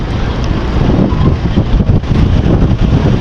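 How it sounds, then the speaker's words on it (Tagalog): Strong wind buffets the microphone on a crowded passenger ship's deck, a loud continuous roar with gusty swells throughout. "Lakas ng hangin."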